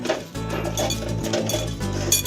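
Potato wedges tossed with oil and salt in a pan, a steady clatter and clinking of pieces against the pan and utensils, close and continuous, with no talk.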